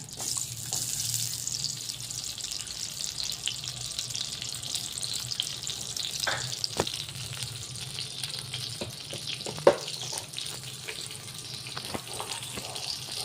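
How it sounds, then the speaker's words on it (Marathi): Butter and a spoonful of oil heating in a pan for a creamy paneer curry give a steady, soft frying hiss with faint crackles and a few light clicks, close and continuous with no talking. "आता आपलं बटर तेल गरम होत आलेलं आहे।"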